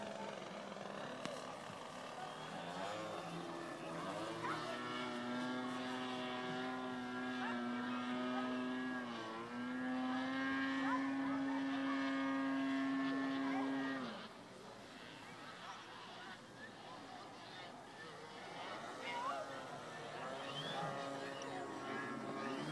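The DLE 20 gas engine of a Hangar 9 Funtana RC model airplane drones at a steady, sustained pitch for several seconds, then fades as it passes. Wind and a nearby voice can be heard.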